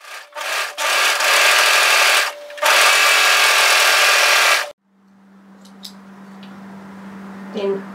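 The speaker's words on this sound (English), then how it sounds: "place them right sides together and overlock through that curve" An overlocker runs at high speed to sew curved fabric pieces of a wrap hoodie together, a loud dense whirring in two long bursts, then stops, leaving a low hum and faint handling clicks.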